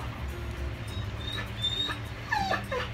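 A full-grown dog whimpering nearby in a quiet yard, several thin, high-pitched whines and little yips spread across a few seconds, with the last cluster the loudest.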